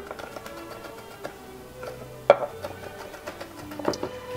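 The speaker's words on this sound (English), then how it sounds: "And then just chop it into little fine pieces like this." A knife finely chopping shallots on a cutting board taps out quick, light, uneven strokes, faint and close, with a sharper knock now and then.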